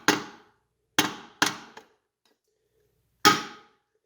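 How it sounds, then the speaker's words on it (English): Flat blade screwdriver tapped to drive a wheel weight onto a spoke nipple of a Yamaha TW200 motorcycle wheel, four sharp close metallic taps, three in quick succession and one after a pause, each ringing briefly. "Just going to tap it back down onto the spoke nipple."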